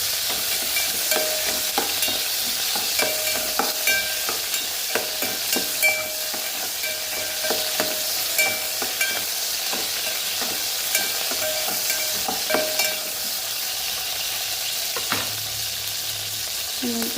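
Green chilies sizzle and fry in a few spoons of hot oil, with a steady hiss broken by repeated scraping stirs of the pan, close and continuous, no voices.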